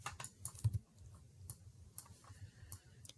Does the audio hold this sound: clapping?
no